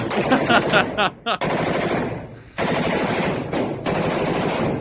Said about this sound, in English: Now I see them firing with wild abandon out of the building.